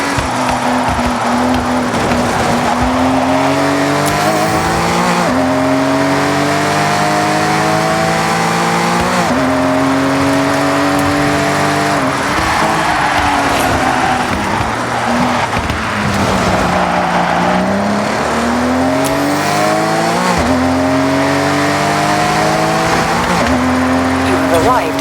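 Honda NSX and Honda Beat race in a driving video game, the engine winding up through gear after gear in repeated rising sweeps with shifts between, loud and continuous, with occasional tire noise.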